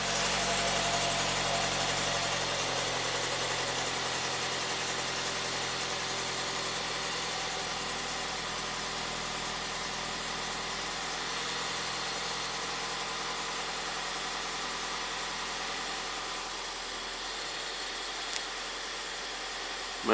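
A Ford EcoBoost engine idles steadily during catalytic converter warm-up with a fault present, giving a continuous, even hum with faint vibration that holds close and level for the whole stretch, with no talk over it.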